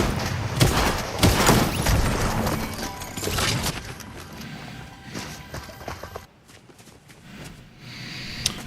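Shotgun blasts in a video game with two shotgun-wielding enemies: several loud, sharp booming shots in the first few seconds, then quieter thuds and scuffling that fade toward the end.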